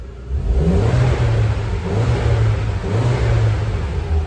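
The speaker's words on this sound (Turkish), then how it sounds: "Size, size bir turbo sesi dinleteyim istiyorsanız." A Seat Ibiza Cupra with a 1.8T 20VT turbocharged engine revs loudly and up close, its engine note rising and falling in repeated sustained pulls over several seconds.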